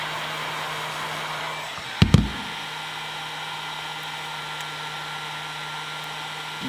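A heat gun blows hot air over a Ford Bronco center grab handle wrap, a steady close airy hiss throughout, interrupted briefly by a couple of sharp handling clicks and bumps.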